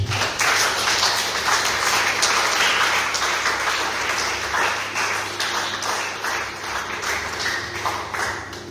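A church congregation at a thanksgiving service applauds Jesus with sustained, dense clapping that fills the room steadily from start to finish, with little let-up.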